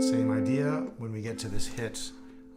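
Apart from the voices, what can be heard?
No distinct noise like a dog, phone or traffic.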